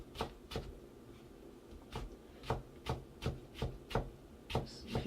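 A knife slices through a carrot on a board with a steady series of about a dozen crisp, close chopping taps, evenly spaced and moderately loud, with no talking.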